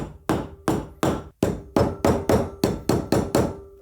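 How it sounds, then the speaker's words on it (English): Hammer blows drive a fork seal into a BMW R80 airhead fork tube through a piece of wood laid across it: about a dozen sharp, close, evenly spaced knocks, each with a short ringing decay. "And then you can hammer it in there."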